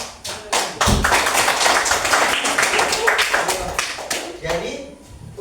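Students in a classroom clap together, a burst of sharp, fairly close hand claps that swells quickly, holds for several seconds, then thins out toward the end.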